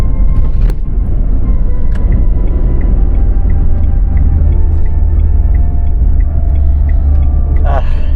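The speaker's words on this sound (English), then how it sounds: "for the car to constantly stay at that much RPM is a bit concerning for the engine health of this car" A Renault Triber's engine holds high revs on an uphill climb, a steady loud droning rumble heard from inside the cabin throughout, with road noise underneath.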